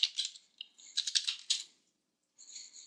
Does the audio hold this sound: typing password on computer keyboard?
yes